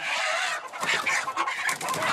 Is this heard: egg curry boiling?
no